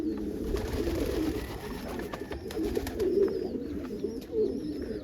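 Homing pigeons coo softly at their coop, low repeated calls close by over a breezy background rumble, with faint chirps from other birds.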